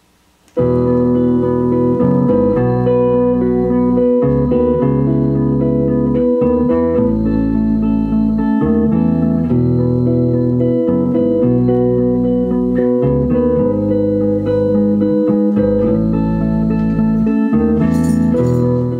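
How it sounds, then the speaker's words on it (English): A looped piano figure from a song with a bass line underneath, steady and repetitive, playing continuously at a full, even level. "the loop station repeats that back, leaving me free to play the left hand part"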